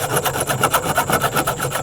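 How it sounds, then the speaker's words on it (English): Rough edge of a metal bracket being filed by hand outdoors in the woods, a steady rhythmic scraping with about a dozen quick back-and-forth strokes, close and fairly loud, no talking. "Flatten that thing back out and file that rough edge."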